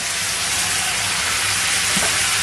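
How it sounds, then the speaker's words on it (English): Venison and vegetables, including mangetout, sizzle loudly in a hot stir-fry pan, a dense, continuous frying hiss throughout with no talking. "And a spoon or 2 of that lovely tasty marinade. Let's put the mangetout"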